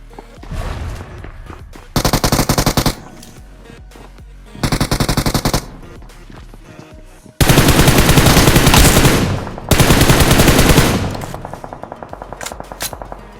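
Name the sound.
machine gun fire in video game BGMI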